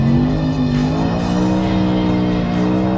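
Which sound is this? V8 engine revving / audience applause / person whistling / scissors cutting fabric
V8 engine revving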